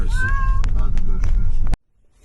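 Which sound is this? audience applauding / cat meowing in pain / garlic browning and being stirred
cat meowing in pain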